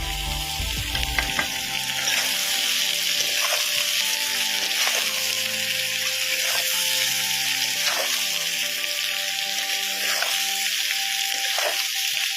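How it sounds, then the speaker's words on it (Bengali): Onion, chili and garlic fry in a pan for a fish curry, a loud continuous sizzle with regular spatula strokes every second or so, no talking. "পেঁয়াজ, লঙ্কা, রসুন ভালো করে ভেজে নেব।"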